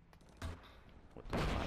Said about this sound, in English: And I just sniped him because he was too close.